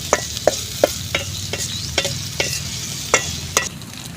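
Okra curry frying in a pan, a steady close sizzle broken by sharp scraping knocks of a spoon stirring every half second or so, with no talk over it.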